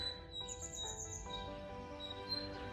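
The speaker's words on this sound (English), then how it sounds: "That is a new bird sound for us." A thin, squeaky bird call repeats in short high notes, faint and distant, with no voices present.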